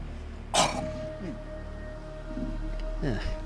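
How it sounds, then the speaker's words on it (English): A single loud cough bursts out near the microphone, followed a few seconds later by a second, softer cough or throat clearing, with a steady hum underneath. "Had to cough there."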